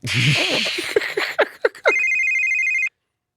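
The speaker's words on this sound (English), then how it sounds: "I got a phone call from Chisa." A telephone rings in a sustained electronic tone for about a second after some brief clattering and shuffling noises, then stops abruptly.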